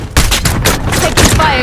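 Gunfire in Call of Duty Modern Warfare, a loud, close cluster of overlapping shots and blasts over a short span, with a voice speaking briefly amid it.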